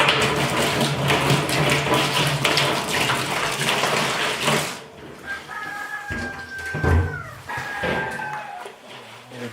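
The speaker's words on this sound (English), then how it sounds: "Now we gotta do our dishes." Water runs hard from a tap into a sink while dishes from boiling maple sap are washed with soap. The steady gush stops partway through, leaving quieter splashes and clinks of dishes.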